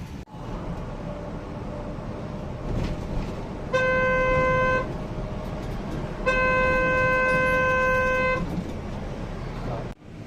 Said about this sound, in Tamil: சாட்டர்டே ஈவினிங்னால செம்ம டிராஃபிக்கு இங்கே சென்னையிலேருந்தே ஆரம்பிக்குது